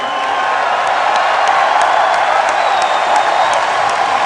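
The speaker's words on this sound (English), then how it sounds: "So please give yourselves a slash cheer. Come on, slash cheer like you mean it." A large BlizzCon 2009 opening-ceremony audience cheers and whoops in a steady, dense roar with scattered shouts, sustained and loud throughout.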